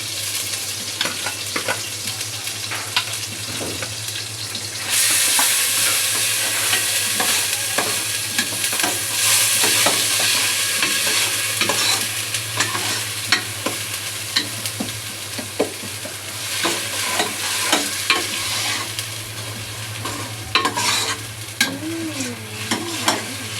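Sliced onions fry and sizzle in a pan for a Tamil kozhi kuzhambu chicken curry, with a steady close hiss of oil broken by repeated scraping stirs of a spoon.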